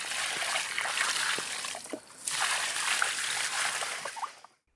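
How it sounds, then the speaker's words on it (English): Freshly harvested produce is thrashed back and forth in a tub of water to wash it, giving close, continuous sloshing and trickling splashes with a short lull midway. "You can then thrash the produce back and forth in the water to clean them."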